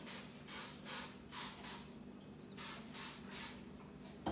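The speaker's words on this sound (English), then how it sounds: "I'm gonna spray this Dawn Power Wash" Dawn Power Wash cleaner is sprayed onto parts in a series of short hissing bursts, about eight quick pumps in two clusters with brief pauses between, close and fairly quiet.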